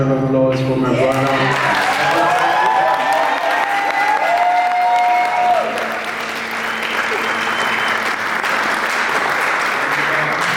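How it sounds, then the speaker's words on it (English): After a spoken-word poetry performance, an audience breaks into a loud, sustained round of applause with some cheering, while voices and tones carry over the start before the clapping settles into a steady wash. "Can I please have a round of applause for my brother?"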